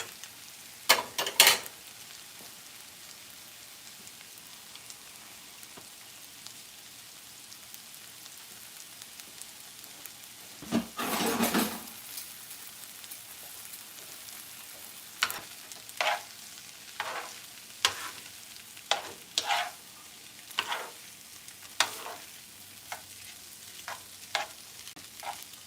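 Noodles sizzle softly in a pan for shrimp chow mein while being stirred, giving scattered scraping and clattering strokes, a louder burst midway, then regular stirring pulses over a faint frying hiss.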